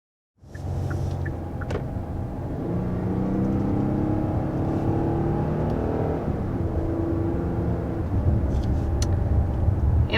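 A large three-row SUV, a Kia Telluride or Jeep Grand Cherokee L with an 8-speed automatic, pulls away under acceleration, a steady low engine rumble and whir building and holding heard from inside, no talking.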